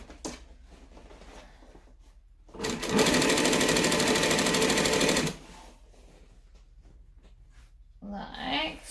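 A cylinder arm sewing machine top stitches a bag in one steady, loud run of about three seconds, its rapid needle chatter standing well above quiet handling noises before and after.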